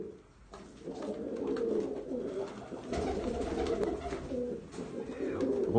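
Several pigeons of different breeds coo steadily in low, rolling murmurs at a loft, with the overlapping calls continuing throughout and no voices present.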